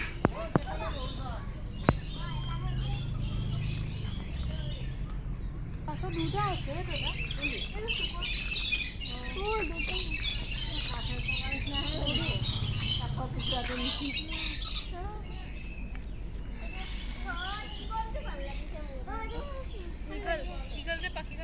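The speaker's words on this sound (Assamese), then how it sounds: "ইয়াত চৰাইবিলাক ৰাখিছে।" Birds in a zoo enclosure squawk and chirp repeatedly amid busy crowd chatter, with occasional sharp knocks and a steady hum of people nearby.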